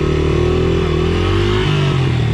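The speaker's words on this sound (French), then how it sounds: "Les moteurs en colère, les gas pipe, motocross." Motocross motorcycles revving close and loud, a rough mid-pitched engine roar that climbs and dips with the throttle, with no talk over it.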